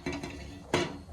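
A metal pan is set onto a gas stove in a home kitchen while lemon rice is being made, giving two faint, sharp clanks about half a second apart.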